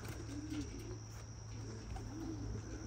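Racing pigeons out flying around the loft, with soft cooing and faint bird calls at a distance over a steady low background hum.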